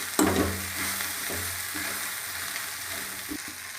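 Sandge, sun-dried lentil dumplings, stir-fried with tomato in a pan for sandgyachi bhaji, sizzling steadily with a few scraping stirs of a spoon, close and moderately loud with no talking.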